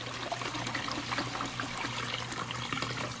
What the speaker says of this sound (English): Pour that water out.